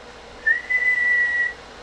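A single steady whistled tone into a radio microphone, held for about a second, sounds clear against a faint background hiss.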